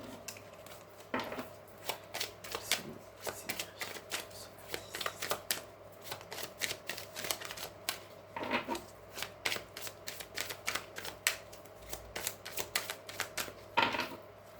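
Oracle cards being shuffled back into a deck, a steady run of crisp riffling flutters and soft slaps close by, continuing without pause and with no talking.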